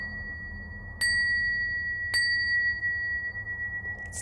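Bright bell struck twice about a second apart, each strike leaving a long sustained ringing tone, clear and prominent against a quiet background.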